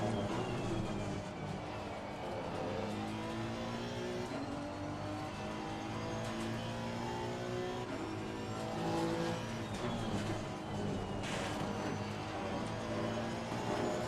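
Steady, sustained engine drone of a Honda race car lapping Laguna Seca in Assetto Corsa Competizione, with harmonic tones rising and shifting through gear changes, loud and continuous throughout.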